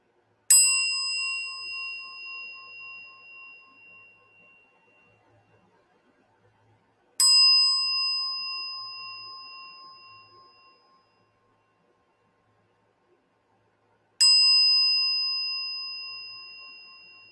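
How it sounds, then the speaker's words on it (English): A new bell rings three times at even intervals, each strike a bright, clear metallic tone that sustains and slowly fades, with near silence between the rings. "I do have a new bell, so if you're sensitive to sound, please turn down your device now."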